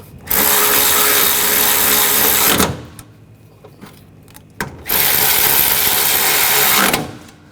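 A power tool drives bolts home while a radiator is replaced on a Nissan Rogue, loud whirring in two long bursts of about two seconds each, separated by a quieter gap with faint clicks.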